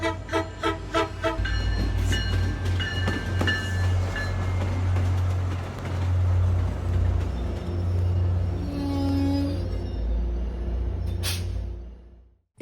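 A Budd RDC train on the MBTA in Boston rumbles steadily along the rails with rhythmic clacking and a low droning engine, a brief horn-like tone sounding near the end.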